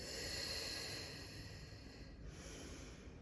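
Slow, steady breathing during a vinyasa yoga session, a soft continuous airy exhale with a gentle hiss, close and quiet, with no talking.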